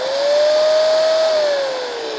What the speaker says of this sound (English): So, we have our angle grinder